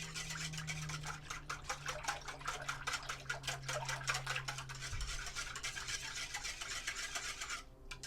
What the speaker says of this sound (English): we're just going to mix this up like so. Just get those eggs and everything,